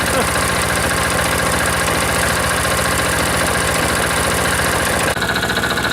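A single-cylinder diesel engine idles after a cold start, its fast, even chugging pulse steady and close throughout, with a slight change in tone near the end.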